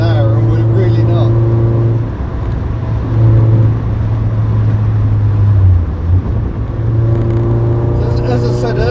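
Toyota AE86 with a non-turbo 1.6 twin cam engine racing at Silverstone, a steady loud in-car engine drone holding revs with brief dips at gear changes, under continuous talk.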